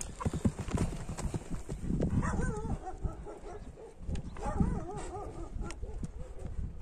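Horse hooves clip-clop in quick, uneven beats among a herd of horses, close by, with wavering animal calls rising over the steps in the middle of the stretch.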